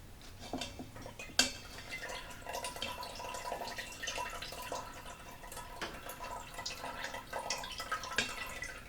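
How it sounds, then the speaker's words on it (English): Turkey stock draining through a paper towel into a container in a home kitchen, quiet drips and trickling liquid with a sharp clink of a utensil or dish, close and faint. "When that one drains, I may need to get a new one."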